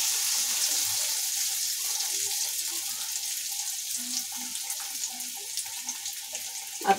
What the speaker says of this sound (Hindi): और ये हमारा ऑयल गरम हो चुका है। अब मैं इसमें ये अरबी को फ्राई कर लूंगी।